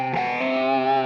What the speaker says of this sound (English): we want to do a little artificial harmonic